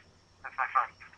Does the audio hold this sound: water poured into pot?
no